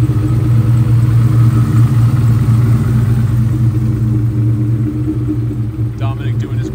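A race car engine idles during a warm-up on a cool morning, producing a steady loud rumble with a constant low drone, and a voice briefly joins near the end.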